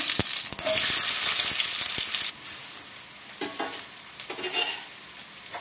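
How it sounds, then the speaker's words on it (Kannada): Mustard seeds and cumin fry in hot oil in a pan with a loud, crackling sizzle and sharp pops. The sizzle drops abruptly midway, then flares again in short bursts as stirring continues. "ಎಣ್ಣೆ ಸ್ವಲ್ಪ ಕಾಯ್ದ ಮೇಲೆ ಸ್ವಲ್ಪ ಸಾಸಿವೆ ಹಾಕೊಂಡಿದ್ದೀನಿ, ಸ್ವಲ್ಪ ಜೀರಿಗೆ ಹಾಕೊಂಡಿದ್ದೀನಿ"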